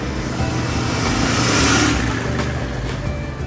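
A Royal Enfield Continental GT 650 motorcycle engine runs steadily and loud, its tone swelling slightly in the middle as revs rise and settle, with no voices.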